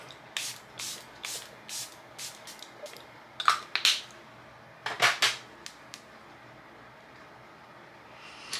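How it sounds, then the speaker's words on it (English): A series of short, hissing bursts of Charlotte Tilbury Airbrush Setting Spray puffs out in quick clusters, close and crisp, with pauses between them and a quiet background. "Then we're gonna set with Charlotte Tilbury Airbrush Setting Spray."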